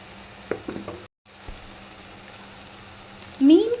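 Okra frying in a pan of oil for a spicy Tamil fish curry, a soft steady sizzle running underneath, with a brief pause and a few clinks and stirring scrapes, and a voice talking briefly near the start and end.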